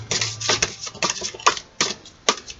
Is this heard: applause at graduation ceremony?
no